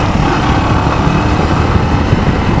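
A motorcycle engine runs steadily outside a shopping mall in João Pessoa, a continuous low rumble that stays close and fairly loud throughout, with no talking over it.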